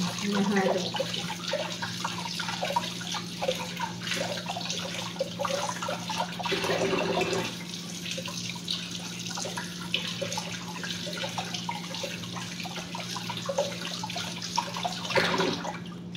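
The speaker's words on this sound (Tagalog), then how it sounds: "babandaman ko pa siya, hugasan ko pa. Isa pa. Para siguradong walang buha-buhangin." Steady tap water runs into a sink while beetroot is rinsed and rubbed by hand, with a few splashes and clunks over the constant stream, moderately near and fairly quiet.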